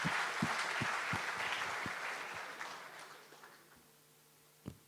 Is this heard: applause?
yes